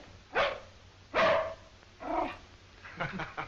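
A dog barks several times, a few separate loud barks followed by quicker softer yips near the end, close by and without speech over it.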